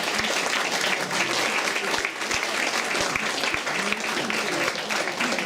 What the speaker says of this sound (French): je voudrais qu'on les applaudisse tous, là.